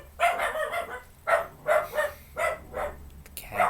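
A pet dog barks in short bursts, about seven close, fairly loud barks spaced irregularly across a few seconds, with no talking over them.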